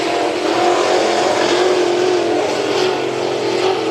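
A sportmod race car at a speedway heat race roaring past, a loud steady engine drone with a slight pitch sweep as it passes, no voices.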